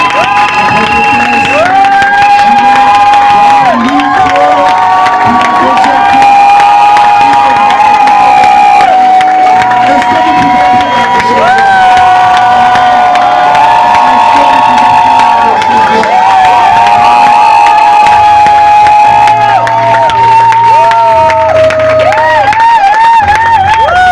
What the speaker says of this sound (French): on va simplement acclamer pour Dieu dans l'ordre